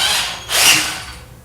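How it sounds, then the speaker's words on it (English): A cordless power drill briefly whirs as it drives a screw into a FEZIBO automatic standing desk with drawer during assembly, a short loud burst over quiet room noise. "I want to just insert it right here and just drill it in"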